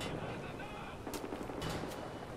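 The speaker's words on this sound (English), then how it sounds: "Okay, where are they firing from?" Gunfire in Wolfenstein: The New Order, a few quick sharp bursts in the second half over a steady, noisy game background, moderately loud.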